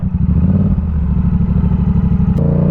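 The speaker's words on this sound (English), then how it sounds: "You can hear that it's revving up way too loud right now" A motorcycle engine revs loudly and steadily up close, a deep throbbing drone with no pauses throughout.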